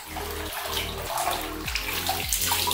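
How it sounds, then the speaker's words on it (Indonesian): A cheap solar-powered water pump submerged in a bucket runs on an off-grid solar setup, its water churning and splashing loudly and continuously, with a low motor tone that dips and recovers in a repeating pulse. "Saya akan coba celupkan pompa ini langsung ke ember saja"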